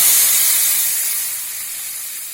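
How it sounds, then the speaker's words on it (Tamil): Lemon juice hits a hot pan while making lemon rice, producing a loud burst of sizzling hiss that slowly eases off over a couple of seconds, with no voices. "இப்ப இந்த லெமன் ஜூஸ் இருக்கு பாத்தீங்களா, அதை அதுல ஆட் பண்ணுங்க"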